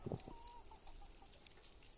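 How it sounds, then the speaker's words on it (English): Chickens cluck softly in the video game Ken Follett's The Pillars of the Earth, a few brief nearby clucks at the start over a quiet ambient background. "Fat little chickens."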